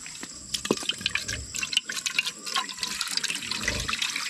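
Water pours and splashes with dripping for feeding animals, a steady wet trickle with scattered drops close by and no talking.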